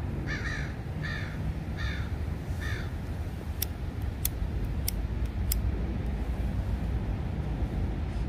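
Several crows caw in short repeated bursts outdoors over a steady low rumble of traffic or engine noise, with a few sharp clicks partway through; the calls come in a quick series early, then stop.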